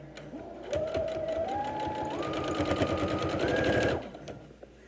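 A sewing machine runs steadily as it stitches ribbon fringe, a fast rhythmic whir and clatter whose pitch steps upward several times before the motor stops abruptly. It is close and loud, with no talk.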